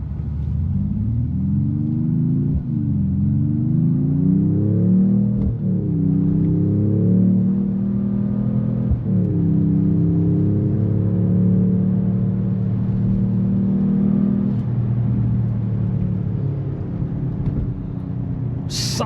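A 2025 Mercedes-AMG E53 hybrid's engine pulls hard and loud, rising in pitch through several gears with brief dips at each upshift, a continuous close rumbling roar.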